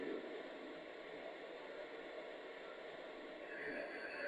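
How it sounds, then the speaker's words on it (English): A Homedics sound machine runs its white noise setting, a flat, steady hiss spread broadly and evenly, holding at a constant level with a slight brightening near the end. "white noise"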